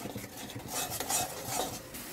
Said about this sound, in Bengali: আমি এই সব কটা মশলার সাথে খুব ভালো করে কষিয়ে নেব